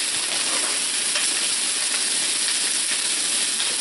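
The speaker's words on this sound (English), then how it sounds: "Just listen to that sear go." Lamb chops searing in a hot pan give a loud, steady, dense sizzle with a constant hiss, close up and with no voices over it.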